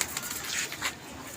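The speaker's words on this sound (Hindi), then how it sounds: "बहुत अच्छा कबूतर है ये" A pigeon at a pigeon club gives a soft coo along with brief bursts of wing flapping, faint and close, with no talk over it.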